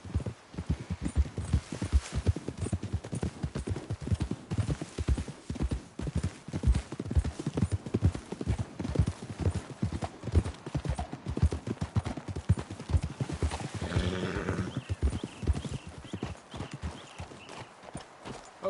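Several ridden horses' hooves clip-clop steadily in a continuous, fairly close rhythm on a trail in a video game, with no voices over them.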